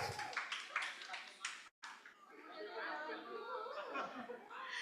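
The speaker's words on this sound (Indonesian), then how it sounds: "Tepuk tangan yang meriah." An audience at a population and demographic data workshop applauds a speaker with a short run of rapid clapping. Chatter and light laughter follow at moderate distance, and the whole exchange stays fairly faint.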